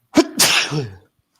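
A single loud, close sneeze bursts out and fades within a second, on a golf-game broadcast during a shot setup from deep rough.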